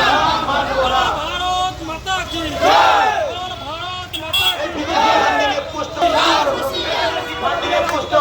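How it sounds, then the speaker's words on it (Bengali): A protest march crowd in Malda town chants slogans loudly in unison, many voices rising and falling in repeated rhythmic cries with general crowd noise underneath. "ককরোচ জনতা পার্টি সহ বামপন্থী এবং নকশালপন্থী সংগঠনের বিরুদ্ধে জোর স্লোগান দেন"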